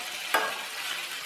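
Fish fries in a pan for Kerala-style fish molee, a soft continuous sizzle with a single sharp scrape or turn near the start, close and fairly quiet.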